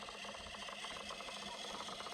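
A DIY automatic chicken coop door slides down with a steady, continuous scraping rasp of wood rubbing, faint and uniform throughout with no talk.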